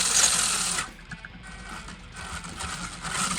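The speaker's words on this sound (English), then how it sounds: "the motor's backwards apparently, because that's reverse and it's going forward, and that's forward and it's going reverse" Small electric motor of a Subotech Brave RC car running, a steady high-pitched whine that eases briefly in the middle and then returns, close by and heard alone.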